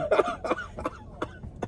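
A person coughs in a short series of five or six harsh bursts, close and fairly loud, spaced unevenly with brief pauses between them.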